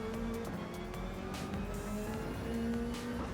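A Toyota Supra GT500 race car in Gran Turismo 7 holds a steady, droning engine note at speed on a straight, with brief bursts of tire noise over the continuous roar.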